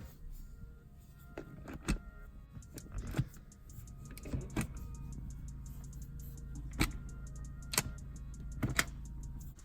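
Shifter on a BMW 3 Series fitted with an F-series shift knob, moved through unlock, reverse, neutral, drive and manual positions: a series of sharp, close plastic clicks and clunks spaced a second or two apart over a low cabin hum, with no talk.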